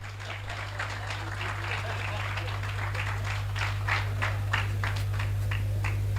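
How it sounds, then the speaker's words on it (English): Round of applause from an audience at a Castel company event in Malawi, steady dense clapping throughout with a constant low hum underneath. "A round of applause, please."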